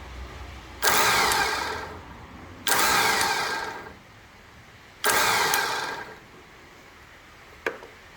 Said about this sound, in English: So when you engage the starter, it pulls the gear in, and you can see that happening. We power this up.